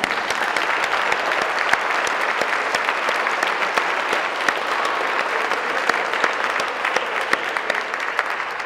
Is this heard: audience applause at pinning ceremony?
yes